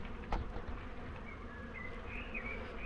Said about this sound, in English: It does sound like a swarm.